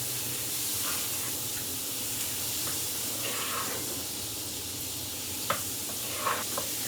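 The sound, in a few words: garlic puree frying in butter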